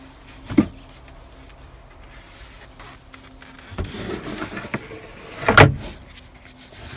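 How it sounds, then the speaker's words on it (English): Parts of a cooktop in a DIY Dodge Promaster camper van are lifted out and set back in place, making a few sharp knocks and clunks with quiet rustling between them, close and without talk. "this is how the cooktop is removed and put back in place."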